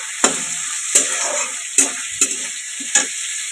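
Vegetables fried with salt in a pan while making pasta, stirred with a utensil in several sharp scrapes against a soft steady sizzle, close and fairly loud with no talking.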